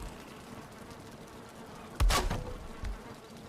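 Bees buzz in the meadows of the Valheim video game, a steady droning hum with a louder swell of buzzing as one passes close, no talk over it.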